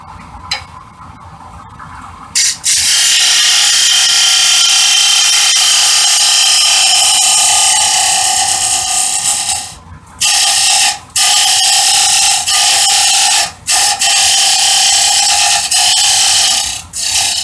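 A square scraper hollows end grain wood on a lathe, a loud continuous scraping whir that runs steadily after a quieter start, broken by several brief dropouts as the tool lifts off the spinning wood.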